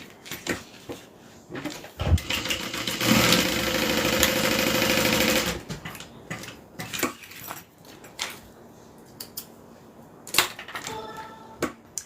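A sewing machine stitches a makeup bag in a steady mechanical burst for a few seconds, followed by scattered clicks and handling noises.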